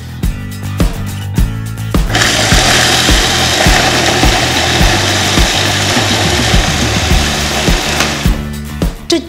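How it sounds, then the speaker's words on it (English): Dry chilies for chili paste are ground in a grinder that runs loud and close for several seconds with a harsh whirring roar, after a few rhythmic clicks and knocks before and after the run. "we put the dry chilies and we are going to grind everything."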